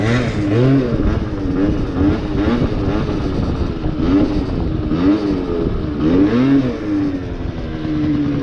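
A Yamaha Zuma scooter's small engine revs continuously through a wheelie, pitch rising and falling in repeated waves as the throttle is worked, loud and close throughout.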